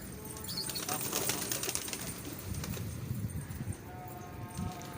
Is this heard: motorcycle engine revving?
no